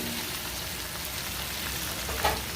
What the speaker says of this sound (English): now I'm adding the ground turkey to one skillet all together